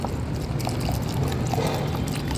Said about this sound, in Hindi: ये दूध डाल दिया इसमें।